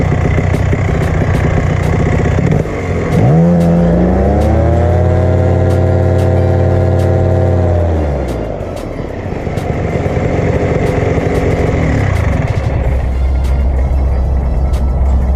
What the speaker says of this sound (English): I'm going to like tick over for a few seconds I'm going to give it a blip on the throttle and see if we're getting any flooding.